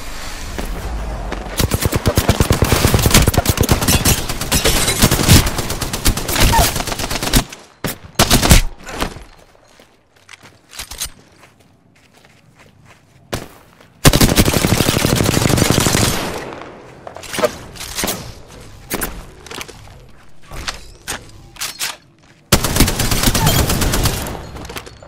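Gunfire in Apex Legends, with long, loud bursts of automatic fire that repeatedly stop and start across the span, quieter gaps of footsteps and movement between them, and a final heavy volley.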